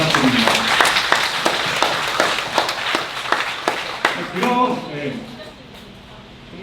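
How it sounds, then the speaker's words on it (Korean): Applause in a community centre's fifth-floor auditorium at a neighbourhood meeting: a crowd claps loudly for several seconds, and the sound then fades and thins toward the end. "밤늦게까지 고생하신 동장님이나 주민센터 직원분들에게도 큰 박수 부탁드립니다."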